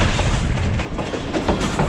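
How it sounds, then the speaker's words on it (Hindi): The Allama Iqbal Express between Sialkot and Lahore runs along the railway track in a loud, steady rumble with faint rhythmic clatter, heard from on board with no talk. "अभी हमने थ्रू पास किया है काला खटिया रेलवे स्टेशन से।"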